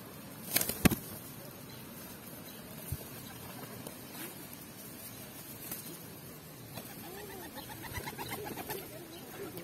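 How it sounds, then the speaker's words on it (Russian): A flock of pigeons coos continuously in Odesa, soft layered calls close by, with a few sharp bird sounds and faint flutters early on. "Мы сейчас прям погружаемся в голубиную стаю."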